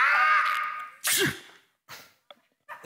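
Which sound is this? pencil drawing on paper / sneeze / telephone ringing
sneeze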